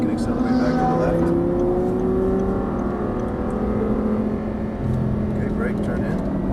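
An Audi R8 accelerating on a race track, its engine note rising steadily and loud up close, with an instructor's voice talking over it throughout.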